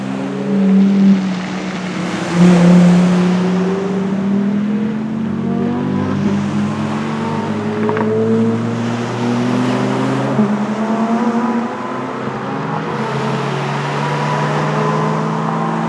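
Engines roar loudly as several cars pass close by in waves near Birling Gap, their pitch sweeping and fading, with steady road and wind noise throughout.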